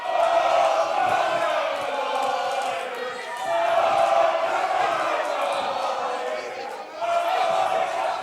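Wrestling crowd at a Quest Novice Cruiserweight Title bout cheering and roaring continuously, loud and dense with swells of shouting throughout.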